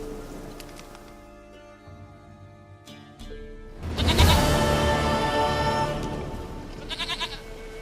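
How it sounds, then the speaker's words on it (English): Goat bleating in The Witcher 3: Wild Hunt, a wavering animal cry over quiet game ambience, followed by a louder burst of rain-like noise and a few short repeated calls near the end. "Goat of mine, dearest,"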